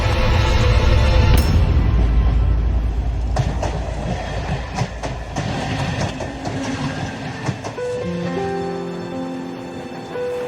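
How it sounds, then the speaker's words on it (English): Train departing into a tunnel in the game Surface 4 The Pantheon, a loud rumbling rush with clattering wheels that gradually fades, giving way to a soft tonal musical cue at the end. "I watched, frustrated and helpless as the train disappeared into the tunnel"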